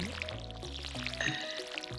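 Watering can pouring water over crops in Stardew Valley, a short game effect layered over bright melodic background music, with the splash brief and fairly soft.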